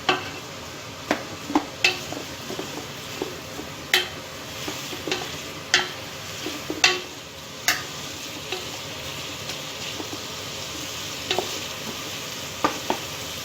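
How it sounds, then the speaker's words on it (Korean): Vegetables sautéing in butter in a pan while being stirred, with a steady sizzle and repeated sharp clicks and scrapes of a utensil against the pan, close and fairly loud, no talking. "버터 어느 정도 넣고 야채를 넣고 나면 불을 약간 올려요"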